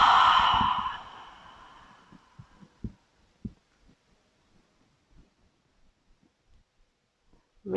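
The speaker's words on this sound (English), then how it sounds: "Exhale through the mouth." A single audible breath pushed out through the mouth during a power yoga session, loud at first and fading over about two seconds, then quiet with a few soft thumps and rustles.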